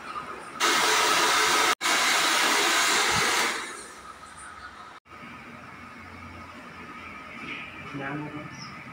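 A hair dryer roars loudly while drying hair during a hair rebonding treatment, briefly cut off once, then switches off, leaving quieter background noise and faint talk.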